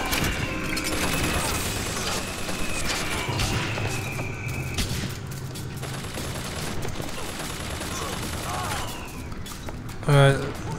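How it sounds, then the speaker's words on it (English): An automated turret in Bioshock Infinite fires sustained, dense bursts of gunfire amid mechanical noise and crashes, with a player speaking over the steady shooting. "the turret is fighting for me"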